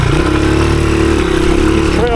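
A 1983 Honda XR200R dirt bike rides tight woods trails, its single-cylinder engine droning loud and steady close by, the pitch holding level throughout.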